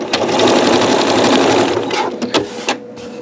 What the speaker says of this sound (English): now let's sew